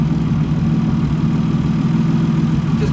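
A Nissan RB20DET engine fitted with Kelford cams idles steadily on a dyno, a low, even rumble with slight lope, close and loud throughout with no talking.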